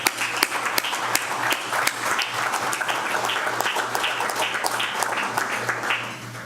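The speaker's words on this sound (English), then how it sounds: "and these guys are it, and we ought to applaud them" Banquet audience applauding steadily throughout, a dense wash of many hands clapping with sharper individual claps poking out, fairly close and loud, easing off slightly at the end.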